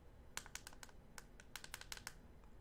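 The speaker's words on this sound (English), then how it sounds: "So it's 5 clicks on and off, as you just saw." The button on an EHPro SPD A8 vape mod is pressed repeatedly, giving a quick run of small, crisp clicks close to the microphone in a quiet setting.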